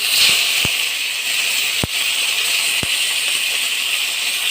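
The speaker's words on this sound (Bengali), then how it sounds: "এরপরে জিরেগুলো এর মধ্যে দিয়ে দেবো ফোড়নের জন্য" Cumin seeds hit hot oil for tempering in a pan where eggplant and fish were just fried, producing a loud steady sizzling hiss broken by a few sharp pops.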